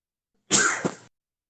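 A single sharp sneeze bursts out close by, loud and brief, with a second smaller catch at the end before silence.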